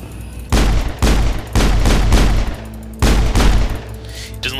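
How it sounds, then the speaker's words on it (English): Video game gunfire, a close, loud series of about five heavy shots or short bursts, each a booming crack with a ringing tail, spaced roughly half a second to a second apart. "But you can shoot all around him."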